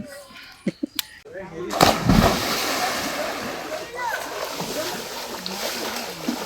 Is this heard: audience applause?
no